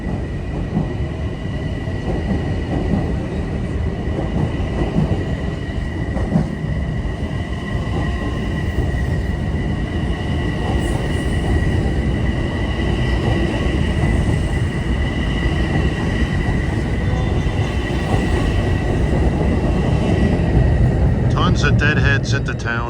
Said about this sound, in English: This is the train I wanted to see.